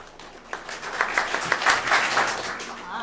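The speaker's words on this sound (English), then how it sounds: "we do a small clap, and then as my hand raises, you get louder and louder" Crowd clapping that starts sparse and swells into steadier, louder applause over a few seconds.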